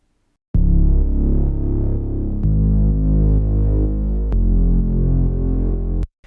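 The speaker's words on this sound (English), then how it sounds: "I knew that we were going to pull in some kind of big bass" A big tweaked synth bass preset from Serum plays alone in three long sustained throbbing notes, each starting with a sharp attack and holding a thick, loud low tone.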